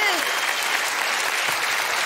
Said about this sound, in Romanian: Hai cu un rând de aplauze, vă, să încurajăm o leacă